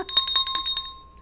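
A desk bell in a radio studio struck repeatedly, about eight quick bright metallic dings in a fast rhythm, ringing out and fading over the last half second.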